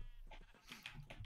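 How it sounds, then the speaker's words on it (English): Sheep in a video game bleat in a few short, nasal calls that come close together and sound fairly near, with no talking over them. "I'm sorry to inform you, but these are sheep."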